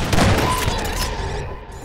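Explosions in the video game Half-Life 2: Episode Two, a loud burst of booming blasts up front that fades into a rumbling tail within about two seconds.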